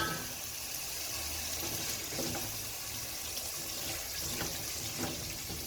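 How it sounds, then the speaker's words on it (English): Water runs steadily throughout, a continuous splashing stream like a quarter cup of water being poured into a pot of cooking githeri, fairly close with no talking. "to it I'm going to add a little bit of water"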